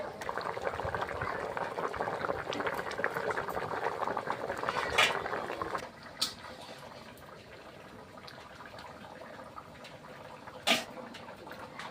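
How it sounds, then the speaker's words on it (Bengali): A curry of river crab, Malabar spinach and potato bubbles in a pot with a steady, soft simmering hiss and gurgle, faint and close, with a few small clinks and someone speaking quietly. "তরকারিটা আমার ফুটে গিয়েছে"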